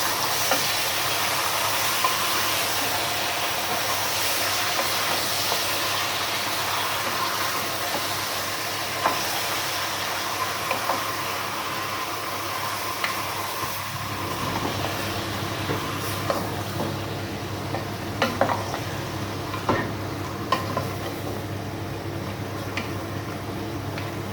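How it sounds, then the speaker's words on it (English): Mutton and potato curry sizzles in a pan while being stirred, a steady close hiss with scattered scraping and clinking stirs, no talk. "Give it a good stir."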